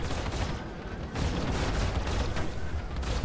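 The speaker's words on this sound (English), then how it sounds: "Firing with all four weapons is quite strong, and he's dead." Mustang Delta mech in a video game firing all four of its weapons at once, a dense, loud, continuous barrage of booming gunfire and blasts with a brief dip midway before the salvo resumes.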